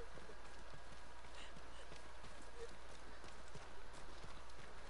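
Horse hooves gallop in a steady, continuous clip-clop rhythm in the video game Ghost of Tsushima, moderately loud over constant ambient game noise and a low hum.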